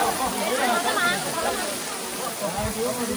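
A temple waterfall sends down a steady, dense rush of spray and pouring water that fills the whole stretch, loud and close, with faint voices mixed into the roar.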